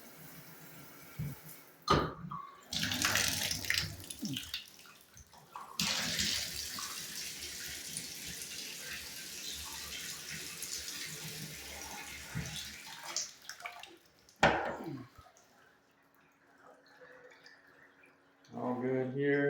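A bathroom shower head runs, water hissing steadily for a long stretch between a few sharp clunks and handling noises, followed by a quieter pause and a brief return of sound.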